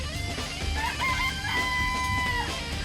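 Chickens cluck and crow inside a coop in the Danganronpa video game, a steady layered barnyard chorus of hens and rooster calls heard alone, with game music tones running underneath.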